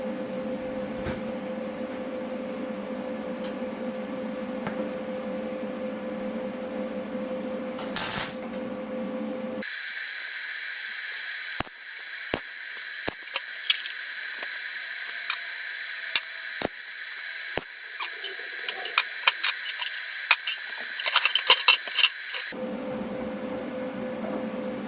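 Tack welding a Type 4 oil cooler mount onto a Type 1 VW engine, heard as a sustained close electric welding buzz and crackle with sharp pops, set between quieter stretches of low shop hum.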